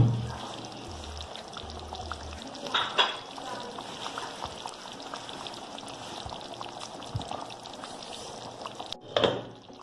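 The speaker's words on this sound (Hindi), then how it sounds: "ये देखें ये मैं ना दही डाल रही हूँ।" Homemade yogurt is poured into a cooking pot for shab daig, a soft, close pouring and plopping with faint sizzling underneath and a few louder clinks from utensils.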